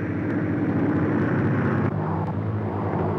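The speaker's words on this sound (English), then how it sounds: "And now, they're arriving by airplane." A steady, broad engine drone from a propeller plane, continuous and fairly loud, with a slight shift in tone partway through.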